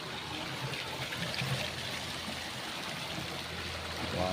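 A steady, rushing flow of water from a borewell pours continuously, close and fairly loud, with no voices over it.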